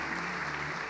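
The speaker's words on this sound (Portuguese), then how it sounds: "Pode aplaudir ao Senhor." A church congregation applauding the Lord during a celebration service, a steady wash of many hands clapping at once that fills the short moment at an even level.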